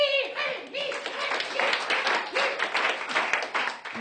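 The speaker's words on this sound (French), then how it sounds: "Je vais vous présenter mon personnage que je vous demande d'applaudir" An audience claps for a ventriloquist's puppet at a comedy show: brisk, uneven clapping with voices and calls mixed in throughout.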